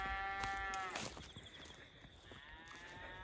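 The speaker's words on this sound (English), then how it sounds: "The calves bellowing." Calves bellow on a farm in the early morning, a few loud drawn-out moos close by, one long call then a second rising call after a short pause, with no talk over them.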